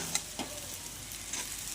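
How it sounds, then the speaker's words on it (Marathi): Sabudana being stirred in a pan with turmeric and green chilli: a faint, steady hissing sizzle with a few soft stirring taps. "आणि छानपैकी याला असं परतून घ्यायचं आहे आपल्याला।"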